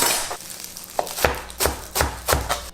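Celery being chopped on a cutting board for a chickpea and vegetable soup: a handful of sharp knife strikes, first scattered and faint, then four louder evenly spaced chops near the end, with no talking.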